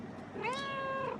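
A cat gives a single clear, rising then falling meow lasting under a second, close and fairly loud against a faint background hiss.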